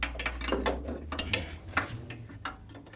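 A ratchet clicks in short, uneven bursts while turning a bolt on the rear bumper of a 1964-66 Ford Thunderbird, close and fairly quiet, with no talking.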